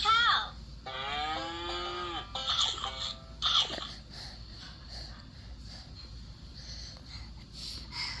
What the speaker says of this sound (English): Moo. Mommy Cow!